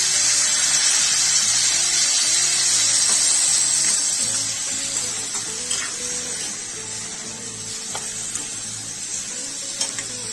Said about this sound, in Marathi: यामध्ये थोडेसे पाणी टाकू।